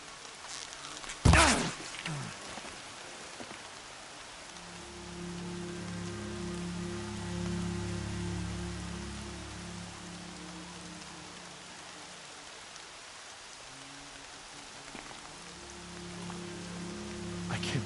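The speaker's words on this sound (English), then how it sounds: "More rain." Steady rain pours in the Horizon Zero Dawn game world, a dense constant patter on the ground, with a loud thump near the start and a low droning hum underneath.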